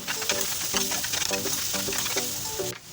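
Chicken frying in a pan over slow to medium heat, a dense continuous sizzle with rhythmic stirring strokes, close and loud, cutting off abruptly near the end.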